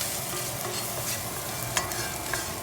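Chopped garlic fries in a pan with a little pepper and salt as a sauce base, a steady close sizzle with stirring scrapes and a couple of sharp utensil clicks, no voices.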